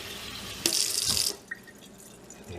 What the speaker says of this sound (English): fill it full of water